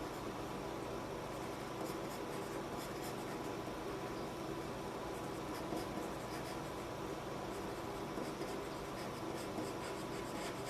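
A pencil sketches a meme face in a continuous scratchy rubbing, steady and close, over a constant background hiss.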